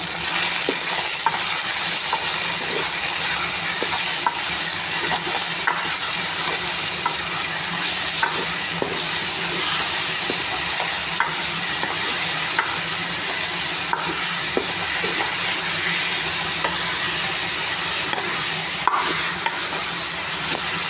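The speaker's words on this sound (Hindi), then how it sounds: "अब इसके अंदर मैं ये चिकन में कीमा डालूँगी।" Minced chicken keema fries in a hot pan with a continuous loud sizzle and hiss, while a spoon stirs and scrapes through it in irregular knocks.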